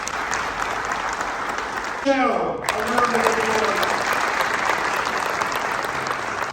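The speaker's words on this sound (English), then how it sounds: "Let's give her a round of applause." Audience applause at a Kosovo Independence Day ceremony in New York City Hall, a dense, steady wash of many clapping hands lasting throughout, with a brief voice or tonal sweep cutting in near the middle.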